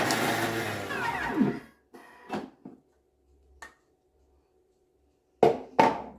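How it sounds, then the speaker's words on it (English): Thermomix blade chopping leek fine, a loud whirring burst that winds down after about a second and a half, followed by a few short knocks and clunks from the machine and bowl. "I'm using my Thermomix because that's good at chopping stuff up."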